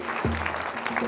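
A brief patter of clapping from an audience at a French children's show, mixed with a tonal musical sweep; short and moderately loud.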